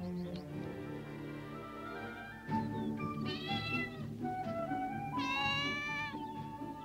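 A cat lets out several meows, two of them long and drawn-out, close by over a steady low background hum.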